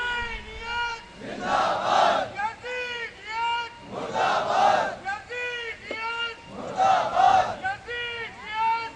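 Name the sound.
crowd chanting slogans together at religious gathering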